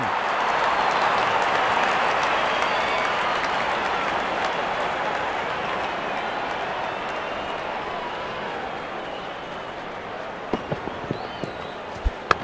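A cricket stadium crowd roars and applauds after a batsman hits a six. The cheering is a broad, sustained wash of noise that fades gently, with a few sharp knocks near the end.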